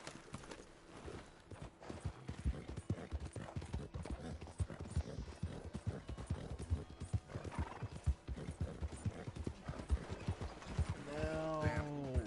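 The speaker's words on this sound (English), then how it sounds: "Just look at that horse." Horse hooves clip-clopping in Red Dead Redemption 2, a steady close rhythm of hoofbeats running throughout, with a horse whinnying near the end.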